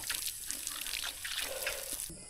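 Water trickles and drips from a tap outdoors, a soft, uneven splashing flow that stays fairly quiet and close, with the sound shifting and thinning near the end.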